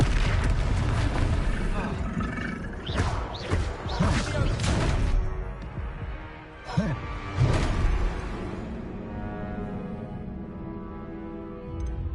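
A Confringo blasting spell exploding in a Harry Potter video game, a string of booming impacts and whooshes up front that fade into a lingering rumble, with a voice speaking over the blasts.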